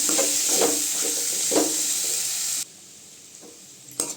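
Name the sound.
jackfruit seed fry sizzling in a pan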